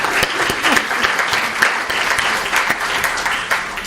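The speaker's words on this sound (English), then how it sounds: "So can I ask you to clap hands for the two?" Audience at an education conference clapping for two presenters, a lively burst of many hands close and loud, sustained evenly with faint crowd murmur underneath.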